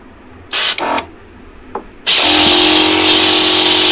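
Spray from a DIDADI aircond cleaner kit bursts in two short hisses, then a brief puff, before a loud continuous jet of water sprays, close and forceful.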